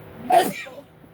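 A single sharp human sneeze, close and loud, bursting out quickly and then trailing off in a short breathy tail.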